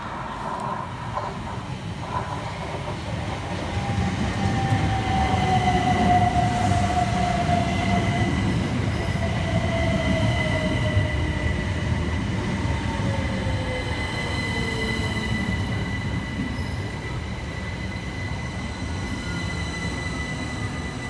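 Southern Class 377 electric multiple units passing through Carshalton station, a loud steady rumble of wheels and traction with rising and falling motor whine and some squeal, sustained throughout, no talk.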